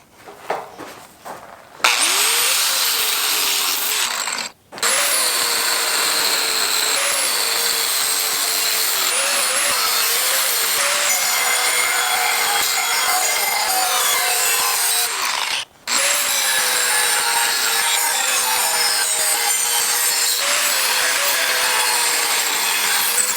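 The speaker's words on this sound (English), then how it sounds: "we're going to start cutting out these longer strips for the clamp that goes onto the shaft" Metal strips for a weed eater handle clamp are being cut with a power tool, giving a loud, continuous abrasive rasp that runs nearly unbroken, with two brief pauses and no talking.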